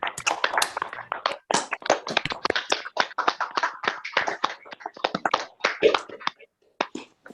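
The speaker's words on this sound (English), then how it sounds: "together we can have a live, audible round of applause for our tremendous poets tonight" Applause for poets at an online reading, a handful of separate participants clapping in quick, uneven bursts through unmuted microphones, close and crisp, fading out near the end.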